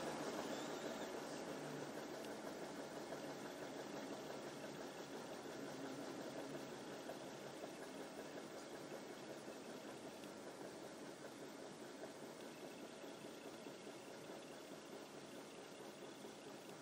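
A Maytag MVW6200KW 5.5 cu. ft. top-load washer uses its motor to brake the drum from a spin toward a stop. A faint, steady mechanical hum and whir slowly eases in loudness, with no voices.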